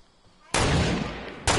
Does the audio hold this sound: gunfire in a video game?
yes